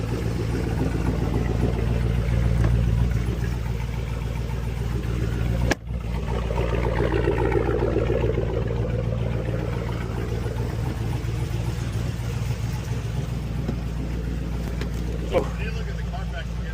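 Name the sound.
cammed Chevrolet Silverado truck engine idle chop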